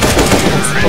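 Gunfire from the video game CS:GO in a 1v1 match, a loud dense burst of shots running through the whole second with a voice talking over it.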